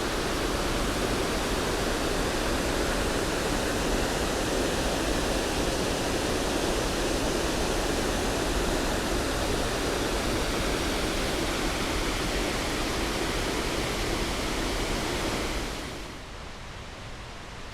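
Water pours steadily over a dam at 6 Mile Creek above a reservoir, a loud, dense broadband roar like a waterfall that holds constant before dropping sharply in level near the end, with no talking.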